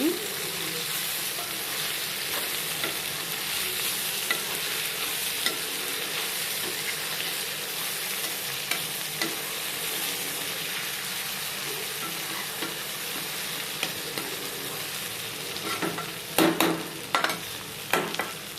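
Eggplant frying in a pan in a village-style home kitchen, a steady close sizzle with soft scraping stirs throughout and a few sharper clinks of the spoon near the end.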